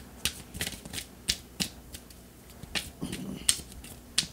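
Tarot cards being turned over and laid on a table, a scattered series of soft, crisp card snaps and flicks, close and fairly quiet, with pauses between them.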